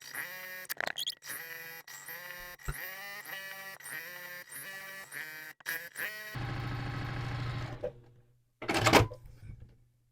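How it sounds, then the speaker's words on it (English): Sewing machine stitching quilt block seams along drawn lines, a steady mechanical run with a brief louder burst near the end. "So I'm going to stitch on those right and left lines."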